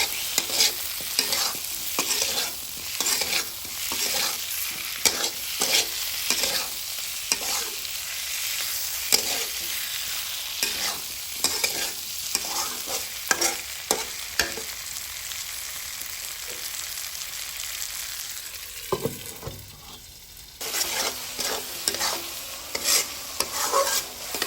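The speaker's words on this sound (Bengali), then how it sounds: "টমেটো দিয়েও আমরা কিছুক্ষণ সময় নিয়ে টমেটোটা কষিয়ে নেব" Potatoes and tomatoes are sautéed in a pan for a village-style fish curry, a continuous sizzle broken by frequent spatula scrapes and stirring knocks, close and fairly loud throughout.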